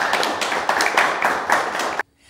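A group claps together at a community gathering, a dense, steady patter of hands for about two seconds that stops abruptly into near silence.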